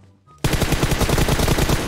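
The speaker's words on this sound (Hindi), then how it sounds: "कहीं से गोली चली" Rapid automatic gunfire from the PUBG Mobile video game breaks out suddenly after a quiet moment, a loud, dense burst of shots in quick rhythm lasting over a second, with no talk over it.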